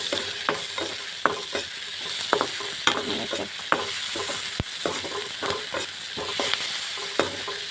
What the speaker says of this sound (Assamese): পিঁয়াজখিনি অলপ সিজাৰ পাছতে মই ইয়াত আগতে ফ্ৰাই কৰি থোৱা মাছ দি দিছোঁ